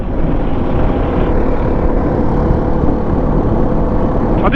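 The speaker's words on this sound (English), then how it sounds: "I do like the sound of the exhaust on this thing." A KOVE 450 Rally motorcycle's exhaust roars loud and steady under throttle while riding, with a thick low rumble and wind noise blended throughout, no voices.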